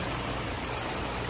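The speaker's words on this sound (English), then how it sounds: "it's dumping rain right now" Heavy rain pours steadily onto a 47 ft Marine Trader trawler, a dense, even hiss with no pauses and no voices.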